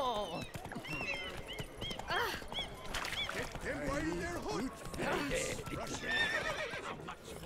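Horse neighing and whinnying in The Witcher 3: Wild Hunt – Blood and Wine, with hoof clip-clops through a city, several loud whinnies near and clear, with a voice talking over parts of it.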